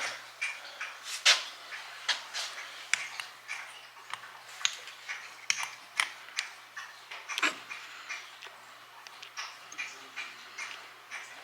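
Small sharp clicks and taps from refitting a racing car shifter fitted with stiffer selector springs, repeating irregularly throughout at low volume in a quiet room.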